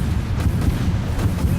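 Missile explosions in the Dreadnought video game, a continuous, heavy low rumble of booming blasts that stays loud and dense throughout.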